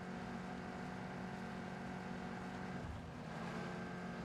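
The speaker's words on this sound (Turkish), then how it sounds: "Traktörmüş." A tractor engine in the video game PUBG drones steadily nearby, giving a constant low mechanical rumble with no voices over it.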